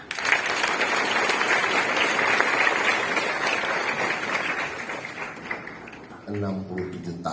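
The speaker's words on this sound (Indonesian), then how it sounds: "Kita tepuk tangan untuk ini." A school gathering at a junior high's 67th anniversary worship service breaks into strong applause that fades out over several seconds, followed by a few sounds near the end.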